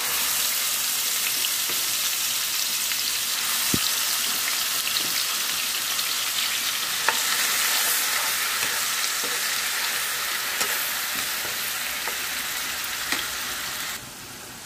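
Pieces of bochu fish frying in oil with masala paste, a steady loud sizzle crackling throughout with occasional sharp pops and stirring clicks, no voices.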